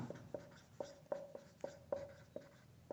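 Pen scratching out handwriting on paper during a maths lesson, quiet and close, a steady run of short strokes and taps at an uneven, brisk rhythm with no talking over it.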